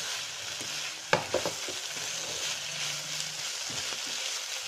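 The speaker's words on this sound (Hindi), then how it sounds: "हाई फ्लेम पर इसको अच्छी तरह से मिक्स कर लेंगे" Chicken shawarma filling with onions stirred in a pan over a high flame: a steady broad sizzle with a few sharp scraping clicks of the spoon, close and moderately loud, no talking.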